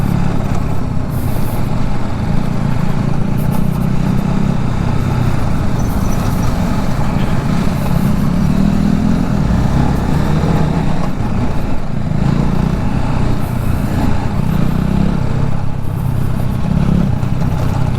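A sports motorcycle engine labours steadily while climbing an off-road trail, a loud continuous rumble with shifting revs and no talk throughout.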